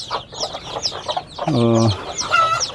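Backyard hens from a small flock of five cluck in a coop. There are soft scattered clucks, then one louder, drawn-out cluck near the middle, followed by a few more quiet calls.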